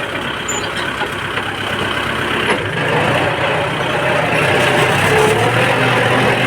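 A farm tractor works a rice field, its loud diesel engine running steadily close by with a dense, rough rumble that swells slightly partway through.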